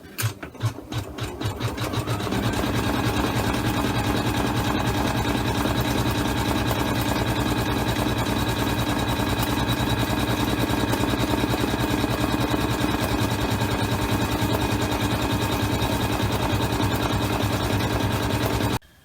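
A computerized quilting machine stitches fold lines on a quilted basket, starting with a few uneven pulses before settling into a loud, steady, rapid mechanical whir that runs continuously and then cuts off abruptly.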